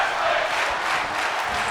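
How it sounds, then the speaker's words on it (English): A large arena crowd roars and cheers at a tag team wrestling match in the video game WWE 2K, a dense, steady wash of noise that stays at an even, fairly loud level. "Listen to this crowd."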